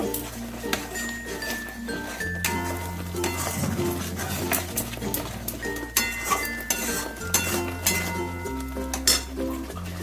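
A spoon clinks and scrapes against a metal pan while turmeric powder is mixed into giant freshwater prawns, repeated close stirring sounds over steady background music.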